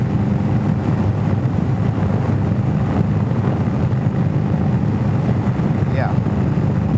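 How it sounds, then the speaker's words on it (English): Strong wind roaring and buffeting over the microphone while riding a 2021 Indian Scout Bobber Twenty motorcycle, with a constant loud low rumble of engine and road noise. "Man, it is really windy."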